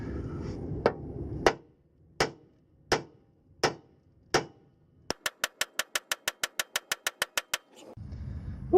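A hammer strikes a car fender on a Galant VR4, first in six spaced whacks, then a rapid run of about fifteen quick, sharp, ringing blows, loud and close against quiet background.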